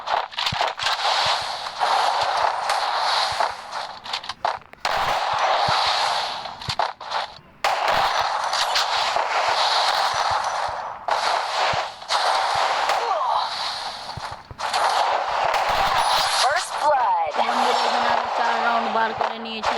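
Repeated bursts of gunfire in a Free Fire shooting game, loud dense volleys broken by short gaps, with someone talking at points.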